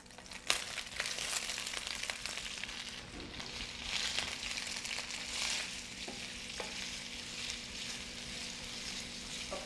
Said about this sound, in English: I'm going to add my onions to saute till they're lightly brown